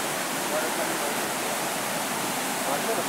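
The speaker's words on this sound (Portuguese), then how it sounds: "Vendo a cachoeira de outro ângulo." A waterfall beside a motorbike trail, heard as a continuous broad hiss of rushing water, steady and fairly loud throughout, with no clear speech over it.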